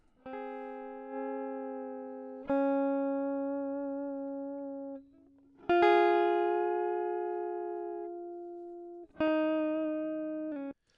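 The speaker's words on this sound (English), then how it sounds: "this guitar is a semi-hollow D'Angelico with 2 humbuckers in it" Clean semi-hollow D'Angelico electric guitar on its neck humbucker with a warm, dry tone: four ringing notes or chords, each struck and left to fade slowly, played alone with no other sounds.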